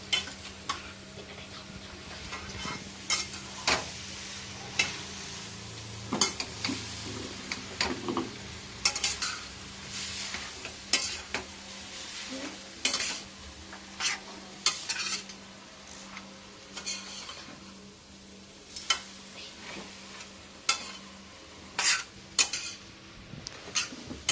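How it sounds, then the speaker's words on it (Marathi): Veg hakka noodles being stir-fried in a pan, with steady scraping and clinking of a spatula against metal in irregular bursts over a soft background sizzle, close and fairly loud, no talking. "छान असं परतवून घ्यायचंय"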